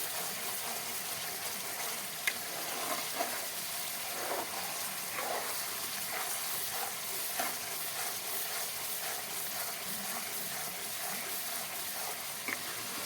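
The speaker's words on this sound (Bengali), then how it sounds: "ঘি রান্না শুরু হয়ে গেছে, আর একটুখানি দেরি করলে ঘি হয়ে যাবে" Ghee cooking down in a pan, a steady dense sizzle that fizzes evenly throughout, with a few faint stirring taps, close and moderately quiet, no voices.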